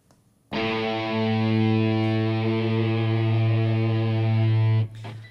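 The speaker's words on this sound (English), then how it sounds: "these are the three guitars layered on top of each other, and they have this huge sound" Three distorted electric guitar sounds layered together with reverb ring out as one loud sustained chord for about four seconds, then cut off and leave a brief reverberant tail.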